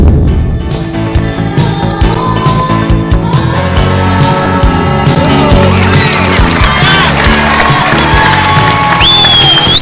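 A small crowd cheers and whoops inside a basketball coliseum just after the national anthem, a loud, dense roar of voices with scattered shouts that swells toward the end.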